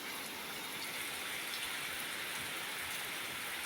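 Steady rain falls in Southern Leyte, a dense, even hiss of drops on surfaces that holds constant throughout with no voices.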